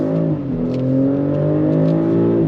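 A 2024 BMW X5 40i SUV pulls hard under throttle, its engine note climbing steadily and loud from the cabin, with a brief dip partway as the gearbox shifts before the drone rises again.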